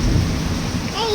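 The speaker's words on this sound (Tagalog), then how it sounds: "Kumukulog na po. Kumukulog po." Thunder rumbles during a rainstorm, a loud, deep, rolling roll heard close and continuous through the short moment, with rain noise behind it.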